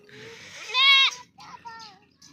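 A young milk-fed goat kid bleats twice at close range at a goat sale, one loud high cry followed by a shorter weaker one.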